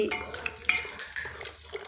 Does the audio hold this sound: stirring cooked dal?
yes